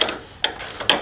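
A ratchet wrench clicks in three quick, close, sharp bursts while backing off a sway bar bolt on a Ford Bronco during lift kit work.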